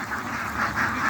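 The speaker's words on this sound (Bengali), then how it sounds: "খাকি ক্যাম্বল হাঁস।" A flock of Khaki Campbell ducks quack nearby in a short burst of several overlapping nasal calls, with no voices present.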